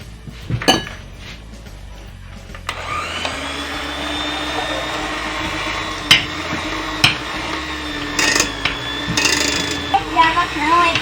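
An electric hand mixer creams butter for cookie dough, a steady motor whine running for most of the stretch with clinks and knocks of the beaters against the bowl.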